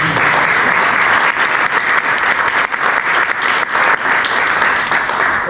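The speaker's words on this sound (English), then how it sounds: "So a little applause, I would say." Audience at a Web3 drone corridor launch event in Berlin gives loud, dense, continuous applause for several seconds, a bright steady wash of clapping.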